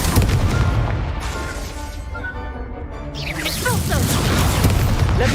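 Confringo fiery blast spell cast during a Hogwarts Legacy duel: loud, dense booming blasts with whooshing magical sweeps and tonal shimmer, packed into continuous close-up combat noise with no pauses.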